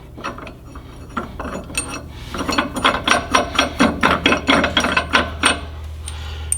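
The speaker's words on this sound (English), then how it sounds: "we take a washer and the nut and thread it up in" A washer and nut are threaded by hand onto a wheel stud during a rear wheel seal job on a cabover Peterbilt truck, giving a close run of quick, rhythmic metallic ratcheting clicks that speed up, with no talking.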